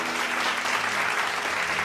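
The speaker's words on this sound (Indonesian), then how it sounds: "Mari kita berikan sorak-sorai tepuk tangan yang kuat buat Tuhan kita yang baik" A church congregation bursts into strong, steady applause during a worship service, a dense roomful of clapping held at an even level throughout the short moment.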